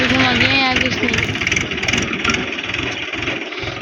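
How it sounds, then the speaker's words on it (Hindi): A tractor engine revs and labors loudly up close as the tractor is spun around on one tyre, with a crowd's voices and shouts over the pulsing engine noise. "इसने एक टायर पे ट्रैक्टर घुमा चुका है"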